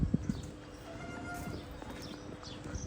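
A horse's hooves clip-clop in an irregular rhythm at moderate distance, with a couple of sharper hoof strikes near the start over a soft outdoor background.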